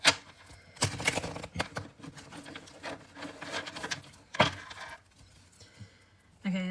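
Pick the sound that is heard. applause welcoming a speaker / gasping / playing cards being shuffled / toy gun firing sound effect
playing cards being shuffled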